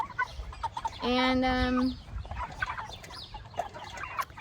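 Cornish Cross meat chickens about seven and a half weeks old give a single drawn-out squawk of about a second, with quieter clucks and scratching around it and a brief word spoken nearby.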